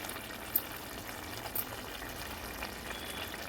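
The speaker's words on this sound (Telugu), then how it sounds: "చూడండి ఎంత చక్కగా ఉడుకుతుందో" Tomato paneer curry gravy, made with blended tomato, bubbles softly in a pan with a faint, steady simmering hiss and occasional small pops, heard alone.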